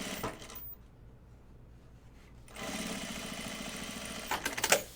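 A sewing machine top stitches fabric for a fabric bin, with a short burst of stitching, a brief pause, then a longer steady whirring run that ends in a few louder mechanical clacks, close and without speech.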